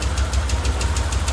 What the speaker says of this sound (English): Starts, but engine is no good.